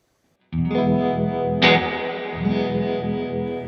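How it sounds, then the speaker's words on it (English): A sustained electric guitar tone through a tremolo effect into reverb pulses with a rhythmic wavering throb, washed in reverb, with a sharper strummed attack partway through. "I want to start with tremolo into reverb."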